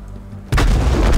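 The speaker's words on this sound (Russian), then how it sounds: "Если сейчас ты КВшка не убьешь этот танк с одного выстрела." A KV tank cannon fires in World of Tanks: after a quiet moment, one sudden loud, booming shot bursts in and rumbles on heavily.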